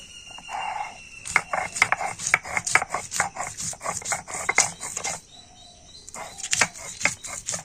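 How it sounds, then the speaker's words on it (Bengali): Chana dal ground together with green chilli and ginger on a traditional grinding stone, a close, rhythmic rasping scrape in rapid repeated strokes, pausing briefly before resuming, with no voices. "অল্প একটু আদা তো ডালের সাথে একসাথেই বেটে নেব"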